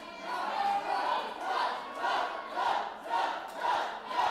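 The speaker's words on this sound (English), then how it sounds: "This crowd is charged up." A live wrestling crowd at an NRW Charge event chanting and cheering in a steady rhythmic pattern of repeated surges, loud and filling the room.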